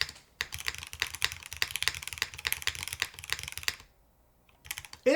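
Rapid typing on a Womier SK71 Pro mechanical keyboard fitted with bottom foam, a dense stream of close, crisp key clacks that stops briefly near the end before a few more strokes.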